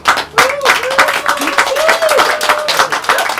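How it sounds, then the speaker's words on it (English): Audience applause at a John Lewis event speech, dense and steady clapping from a crowd with cheering voices mixed in throughout. "Give yourself a hand of applause"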